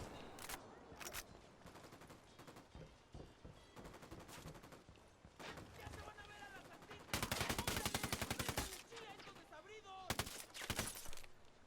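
Heavy gunfire in the tactical shooter Ghost Recon Wildlands, rapid machine-gun bursts and scattered single shots throughout, loudest in a long sustained burst midway, with game sounds around it.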